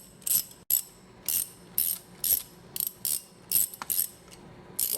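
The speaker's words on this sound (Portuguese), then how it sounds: "Utilizando chave catraca, alongador e soquete de meia polegada" A ratchet wrench with an extension and half-inch socket clicks through repeated short bursts of rapid pawl ticks while taking the cover off a worm-gear reducer's input shaft, close and crisp with small pauses between strokes.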